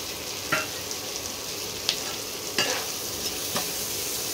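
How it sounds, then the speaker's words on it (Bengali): Chopped onions and tomato fry in a pan with a steady sizzle, while a spoon scrapes and stirs in several distinct strokes. "এবারে পেঁয়াজগুলোকে ভালো করে ভেজে নেব। পেঁয়াজের সঙ্গেও একটা টমেটো কুচি করে দিয়ে দিলাম।"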